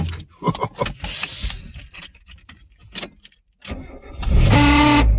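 A 1994 Mazda MX-5 engine starts up after keys jangle and rustling inside the car, the engine catching with a loud burst and settling into a steady idle near the end.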